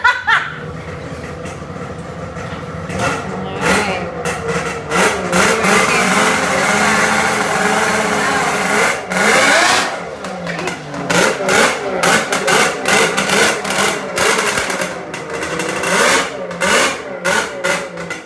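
A Yamaha SXR 700 triple-cylinder snowmobile engine revs up and down repeatedly, rising and falling with a winding, throaty pitch, loud and close throughout with no one talking.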